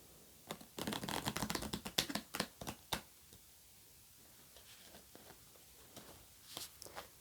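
Tarot cards being shuffled by hand, a quick run of close crisp riffling clicks and flutters, then quieter scattered taps and slides of the cards, with no voices.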